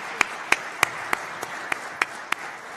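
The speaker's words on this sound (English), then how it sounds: "Everyone, if we could please give them both a round of applause." Sparse crowd at a candidate forum for the Milford Board of Health giving a light round of applause, a handful of distinct claps spaced evenly over a few seconds against a soft room murmur.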